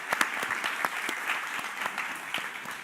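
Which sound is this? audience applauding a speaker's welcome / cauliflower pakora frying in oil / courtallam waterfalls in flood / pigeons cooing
audience applauding a speaker's welcome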